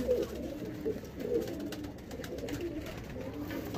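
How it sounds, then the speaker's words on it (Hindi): Pigeons coo steadily inside a loft of white-eyed racing hens, soft repeated low calls overlapping close by with no talk over them. "ये मेरी कबूतरियाँ सब बाजियों में उड़ती हुई हैं"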